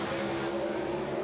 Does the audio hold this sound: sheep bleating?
no